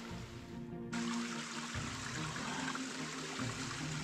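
A person plunges into cold outdoor water on a chilly morning, with a sudden broad rush and churning splash that stays loud and steady after the entry, near and alone with no talking.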